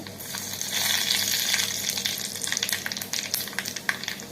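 Fenugreek and cumin seeds frying in hot oil for a buttermilk curry give a loud, continuous sizzle with crackling bursts and light stirring clicks toward the end, with no voices.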